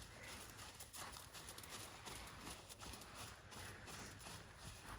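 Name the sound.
horse trotting, hooves clip-clopping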